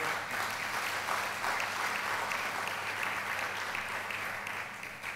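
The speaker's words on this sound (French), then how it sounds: "je vous demande d'applaudir" Audience at a social entrepreneurship conference panel applauding the panelists, a steady dense wash of many hands clapping for about five seconds, fairly near and even in loudness.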